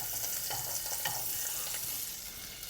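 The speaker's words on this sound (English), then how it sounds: "Melt the butter a bit." Ten grams of butter melts over medium heat in a pot and sizzles and crackles steadily up close, with light stirring scrapes and no talking.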